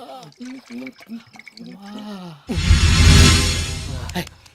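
A voice speaks briefly, then a loud, splashy rush of water follows as someone drinks for about two seconds.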